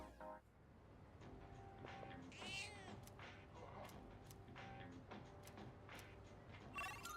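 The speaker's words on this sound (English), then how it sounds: "now we feed the cat again" A cat in the video game Persona 3 meows several times between quiet background game sounds, short drawn-out cries spaced across the stretch, fairly faint and without talk.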